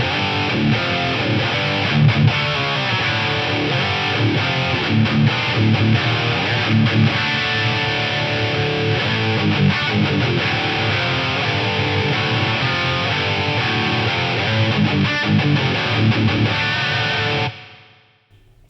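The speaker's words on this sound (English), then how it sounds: "So it's kind of reverby, it's kind of giving me that spatial chorus detune thing as well." Eventide Micropitch Delay effect spreads a dense, continuous, thickened and slightly detuned reverberant wash over a loud music mix, holding steady before cutting off near the end.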